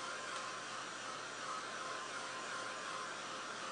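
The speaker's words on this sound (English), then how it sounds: "I used the heat tool for a while" A heat tool blows steadily over wet paint on a canvas, giving a constant, even whooshing hum at moderate level with no break for the whole stretch.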